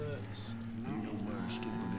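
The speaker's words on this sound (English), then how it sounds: "how's it going there, cows?" Cattle mooing in the video game Call of Juarez: Gunslinger, a low drawn-out moo close by over a steady background, with no speech.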